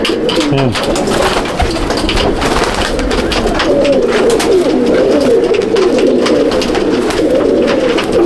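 Pigeons cooing continuously at a loft in Mominpur, Kolkata, dense overlapping low coos close by, a steady chorus with no pauses.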